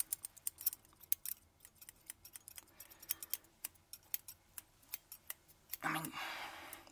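Scissors snipping close to the ear during an ASMR fake haircut, a rapid series of crisp metallic clicks and snips, quiet and intimate, ending with a brief soft rustling burst.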